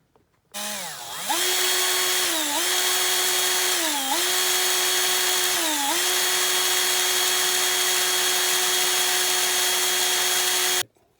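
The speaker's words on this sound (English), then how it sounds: "ready to drill the hole for my rivet" A power drill whirs loudly and steadily for about ten seconds, drilling a rivet hole in a diecast Matchbox VW Beetle model, its pitch dipping briefly a few times as it bites into the material.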